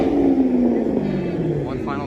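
A Chevrolet Camaro ZL1 V8 rumbles steadily at close range, a dense low drone that eases slightly toward the end, with people talking over it.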